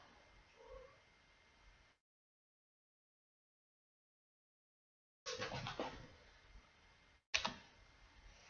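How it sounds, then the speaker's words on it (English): A cat gives a faint meow from a distance. After a stretch of silence come louder, sharp clicking and handling noises. "You hear meow in the background."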